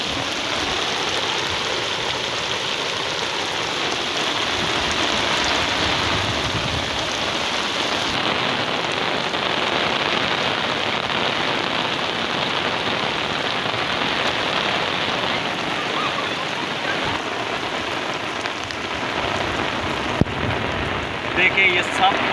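Heavy rain pours down steadily and loudly on surfaces near a house, a dense continuous hiss of falling water with faint thunder-like rumble at times.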